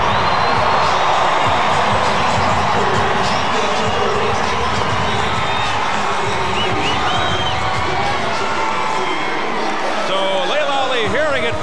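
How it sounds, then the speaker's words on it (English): A big arena crowd at the MCI Center roars and cheers for Muhammad Ali, a loud continuous wash of shouts and whoops before a women's boxing fight, with a commentator talking over it. "Fans roaring and cheering every time they see him on the big screen here."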